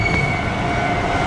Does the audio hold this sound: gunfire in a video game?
no